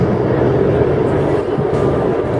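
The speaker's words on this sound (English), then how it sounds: "Y'all get a bunch of trains through here." A train rumbles past near a stadium, a continuous, loud low-frequency roar with steady rail noise and no break.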